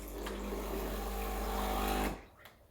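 A steady pumping hum with water running from a Breville Dual Boiler BES900 espresso machine's hot water spout for about two seconds, then it stops abruptly, leaving quiet room noise.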